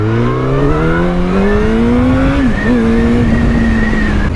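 A motorcycle at a motorbike meetup revs loudly and close by, engine pitch climbing steadily, dipping briefly, then holding high through the rest, with no talking.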